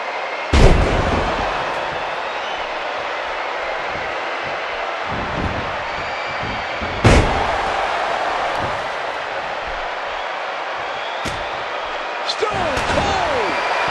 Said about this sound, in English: You can hear the chin crack as he hits the tailbone.